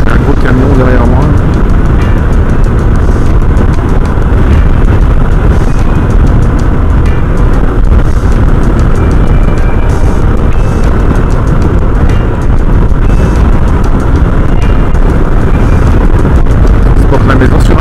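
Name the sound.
large truck driving behind on the road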